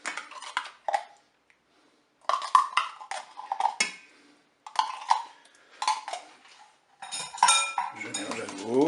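Crab flan batter being mixed with tomato paste in a Cookeo multicooker: repeated bursts of utensil scraping and clinking against the bowl, separated by short pauses, close and fairly loud.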